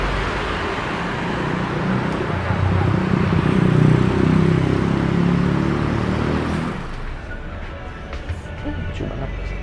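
An intercity bus on the Jakarta to Malang route arrives at a roadside stop, its engine rumbling loudly and building before easing off, with traffic noise around and a person speaking.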